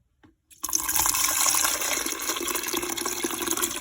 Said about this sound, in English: Now we're gonna go over to our strainer, and we're gonna strain this all off.